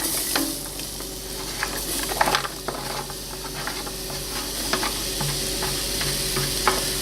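Onions frying over high heat in a stew pot after beef has been browned, a constant close sizzle with occasional scrapes and clicks of stirring.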